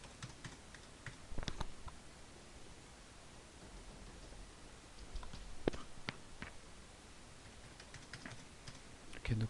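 Accounting data being entered on a computer keyboard: quiet, scattered key clicks, sometimes in short runs, over a steady background hiss.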